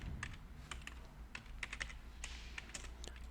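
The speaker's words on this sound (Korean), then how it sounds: "스타일 엔터를 합니다." Computer keyboard keys clack in quick irregular bursts, close and clear, as someone types a style command into drafting software and presses Enter.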